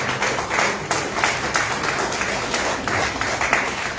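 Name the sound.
audience applauding the speaker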